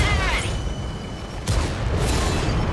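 Tank guns firing in the World of Tanks video game, with heavy battle rumble throughout and two sharp, loud broadband blasts near the middle and latter part.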